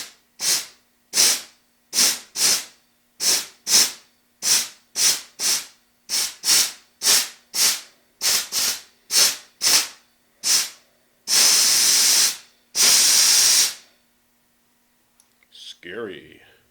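Compressed air blows into a drilled stud hole in a tire in many short sharp hissing bursts at a quick steady rhythm, followed by two longer blasts, then a brief voice near the end.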